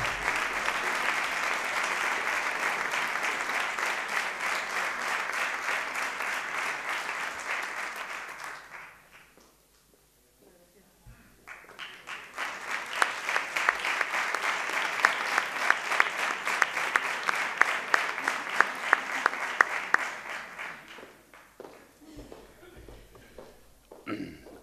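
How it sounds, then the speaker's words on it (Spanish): An audience at the final of a saeta singing contest in Gines applauds a prize winner. Sustained clapping runs for several seconds, dies away to near silence, then returns in a second long round of applause that fades at the close. "le pido un fuerte aplauso"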